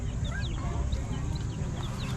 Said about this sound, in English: This big boy is a barred rock Americana rooster, and he's about 4 to 5 months old.